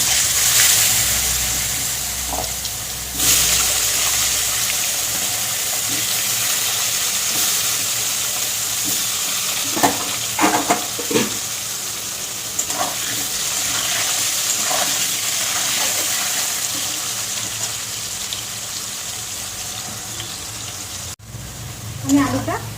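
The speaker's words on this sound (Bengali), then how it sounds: "আমি আলুটা ভেজে নিয়েছি।" Cut potatoes fry in oil tempered with nigella seeds, making a long, steady hiss of sizzling with a few sharper crackles and stirring clinks scattered through it.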